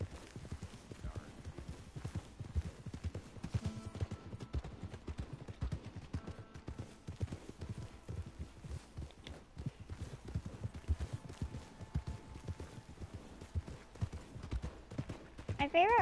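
Horse hooves clip-clop in the Western video game Red Dead Redemption, a continuous quiet, steady walking rhythm of hoofbeats throughout with faint background ambience.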